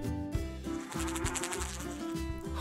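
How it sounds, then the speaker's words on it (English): A honeybee's buzzing hum from a children's insect alphabet cartoon, steady and droning under a light musical backing. "Honeybee."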